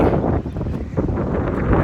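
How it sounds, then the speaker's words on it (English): Strong wind buffets the microphone in a steady, roaring rumble with gusty surges, loud and close, with no talking. "freezing right now. It's so windy."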